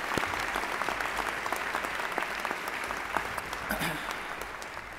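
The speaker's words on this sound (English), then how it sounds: "let's give him a round of applause." Audience applause at a convocation ceremony: a large crowd claps in a sustained, even roar of overlapping hand claps, moderately loud, with faint voices mixed in.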